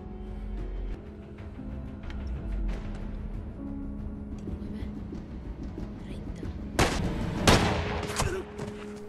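Pistol gunshots ring out in an action film: two sharp, loud cracks close together near the end, set over a low murmur of voices and background sound.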